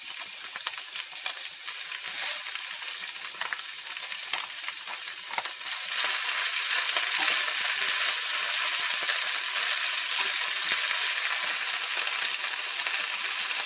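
Bok choy seasoned with salt and pepper fries in a hot pan, giving a steady broadband sizzle that grows louder and denser partway through and then holds constant.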